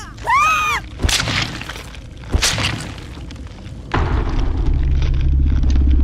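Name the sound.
explosion in a video game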